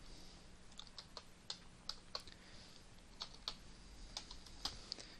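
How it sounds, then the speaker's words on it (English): Fingers tapping the number pad of a computer keyboard, quiet irregular clicks in short bursts, close and alone with no voices. "I'm actually typing on the number pad you can see in the bottom right."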